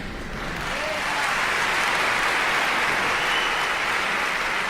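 Steady, broad applause from a commencement audience builds over the first second and then holds as a dense, even wash of clapping, moderately distant, with no voices above it.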